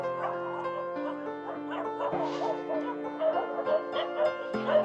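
Many rescued dogs at a shelter housing about 200 of them bark, yip and whimper together in a busy, overlapping chorus, some close and some farther off.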